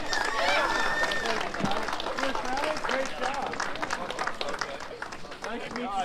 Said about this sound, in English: One more round of applause for your top 3 finishers in two-wheel drive.